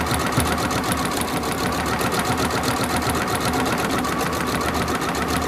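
A sewing machine stitching a craft cord project runs loud and close, a fast steady mechanical chatter with even rhythm throughout and no voices.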